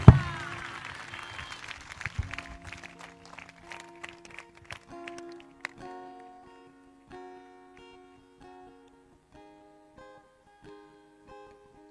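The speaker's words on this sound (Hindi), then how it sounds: "उस गिफ्ट के लिए एक ताली, जोरदार धन्यवाद की।" A church congregation at a prophecy and prayer service gives a burst of applause that thins out over a few seconds, then gives way to sustained keyboard music.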